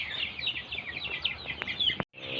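Three-week-old chicks in a brooding coop on a Thai farm, peeping in a dense, continuous chorus of high chirps close by, with a brief silent gap near the end.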